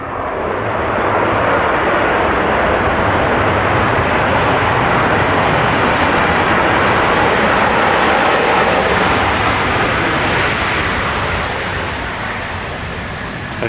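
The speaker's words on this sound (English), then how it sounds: "Usually conjure up some really buttery landings like this one. Just kissing the tarmac there." An airliner lands at Manchester Airport, a loud, broad roar of engines and rushing noise holding steady for several seconds before easing slightly.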